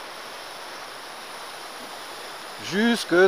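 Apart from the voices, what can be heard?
watering a repotted bonsai's substrate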